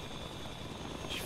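Helicopter flying in the video game The Front, a steady whirring rotor drone with broadband engine noise held at constant loudness, alone without talk.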